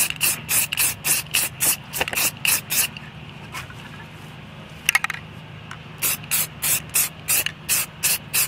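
Spray can painting a yard cart green in a garage, a quick series of sharp hissing bursts in a steady rhythm, then a pause with a few faint taps, then another run of spray bursts.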